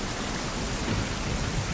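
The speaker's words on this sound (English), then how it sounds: "You hear the sounds of the rain and the lightning and the thunder" Steady, dense rain hiss with a low rumble of thunder underneath, played as background ambience during a tabletop role-playing game session; a continuous, even wash of sound with no voices.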